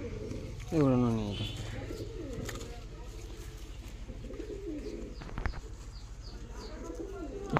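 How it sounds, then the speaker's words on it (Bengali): A female pigeon held in the hand coos once up close and flutters restlessly, with soft rustling and a faint wing flap, while a person talks throughout. "এটা মাদা পায়রা আছে"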